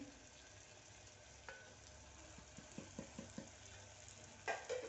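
Dry spices roasting in hot oil in a pan over a low flame for potato rice, with a steady soft sizzle and a few light scraping stirs near the end.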